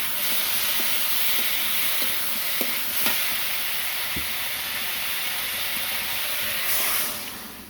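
Water poured into a hot pan of curry sets off a steady, loud hissing sizzle with bubbling steam and a few faint utensil clicks, easing off at the very end.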